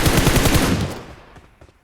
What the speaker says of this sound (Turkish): Karşı taraftan sıkanlar var.